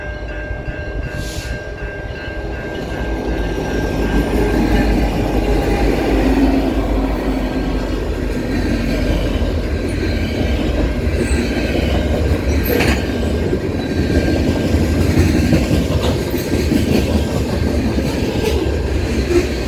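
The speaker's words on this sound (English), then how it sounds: "424 rolls by with 2 EMD units for power." A freight train led by two EMD diesel locomotives rolls past, its engines rumbling and wheels clattering steadily, with faint squeals on the rails, loud and continuous for the whole stretch.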